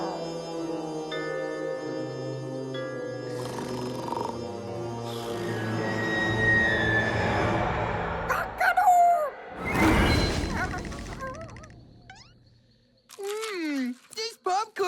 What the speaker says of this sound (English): Rooster, whatever.